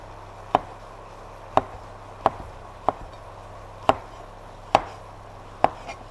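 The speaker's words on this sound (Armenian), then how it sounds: "դե սունգերը սենց ենք կտրատում փարակ, շերդերի," A knife slices mushrooms into thin pieces on a cutting board, seven sharp, evenly spaced chops over a quiet background, close and distinct, with no talking.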